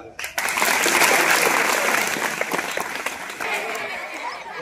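Audience at a school lecture breaking into loud sustained applause that starts sharply, peaks, then gradually thins out toward the end, with some voices mixed in.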